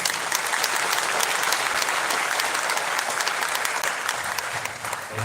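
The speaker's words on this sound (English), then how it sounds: "Please give a big round of applause" An audience in a lecture hall applauds a professor from IIT Kanpur, with dense, sustained clapping throughout that tapers off slightly toward the end.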